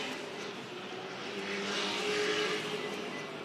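Pro Late Model race cars roar around Ace Motor Speedway in a CARS Tour race, a dense, continuous engine drone with a pack of cars swelling slightly louder as they pass.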